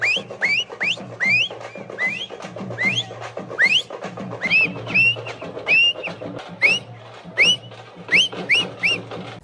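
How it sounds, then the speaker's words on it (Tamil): Loud, shrill whistles blown again and again in quick upward bursts at a Jallikattu bull-taming event in Madurai during Pongal, rising over a dense crowd din throughout. "அது கூட அந்த விசில் அதாவது அந்த சீழ்கை சத்தம் செவியை கிழிச்சிருச்சு"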